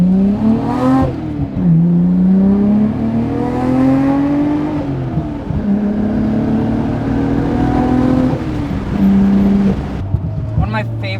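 Nissan GT-R engine accelerating hard while driving, loud and close with rising harmonic sweeps through repeated gear changes, brief dips between pulls and a sharp blip near the end; a voice talks over it.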